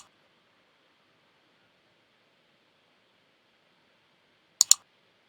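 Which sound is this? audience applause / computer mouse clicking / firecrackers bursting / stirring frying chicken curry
computer mouse clicking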